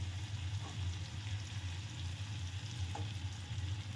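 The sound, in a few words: tomato ketchup stirred into frying pointed gourd curry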